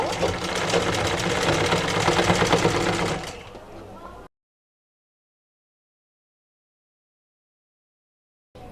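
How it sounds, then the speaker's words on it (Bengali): A sewing machine stitches a blouse with a loud, fast, even whir that runs for about three seconds, winds down, and then cuts to silence. "এখন আমি মেশিনের মাধ্যমে এই সেলাইটা করে নিচ্ছি"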